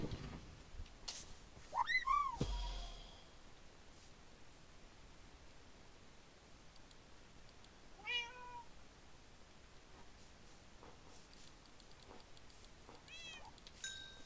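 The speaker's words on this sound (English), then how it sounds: "I have cats." Cats meowing in the video game Minecraft: a few short separate meows, one near the start and one in the middle, with fainter meows near the end, over steady hissy background noise.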